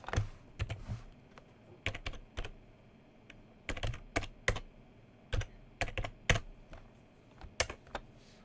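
Keys tapped in irregular bursts on a calculator, crisp close clicks in short clusters separated by brief pauses, fairly quiet with no talking.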